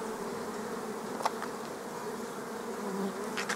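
Honeybees hum steadily around a hive during swarm splitting as young queens contest, a dense, faint buzzing drone with a few brief closer passes.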